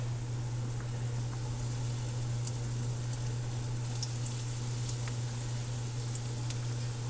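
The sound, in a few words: homemade fish sticks frying in hot oil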